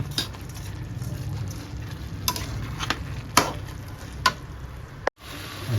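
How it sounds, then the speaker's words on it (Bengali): Rice and lentils stirred together in a cooking pot with hot water, a continuous close scraping, bubbling texture broken by several sharp utensil knocks against the pot. "এবার আমি চাল আর ডালটা এখানে মিক্সড করে দেবো এবার একটু নেড়ে নেব"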